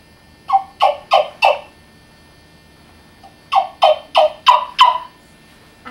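A turkey wing bone call, rosined together, yelps in two quick series, three sharp raspy notes, a pause, then five more, close and loud with no talking.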